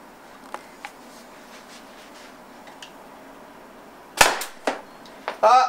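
A Tippmann TCR CO2-powered gun is fired over a chronograph, giving a few sharp, close shots near the end after quieter ticks and clicks, with no talk.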